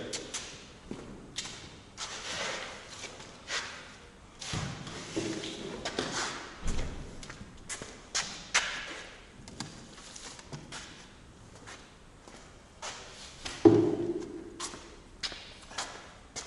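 A bricklayer's trowel scrapes and thuds as mortar made from soft sand and hydrated lime is spread onto bricks, in irregular close scrapes, slaps and taps, with one sharper knock near the end.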